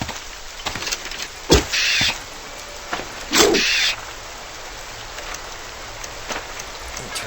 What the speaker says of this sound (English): Turn down the volume a little bit because the rain is quite loud.